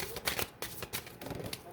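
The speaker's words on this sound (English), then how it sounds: "I'm going to shuffle one more time" Moonology oracle cards being shuffled by hand in quick, irregular riffling bursts, close and fairly soft.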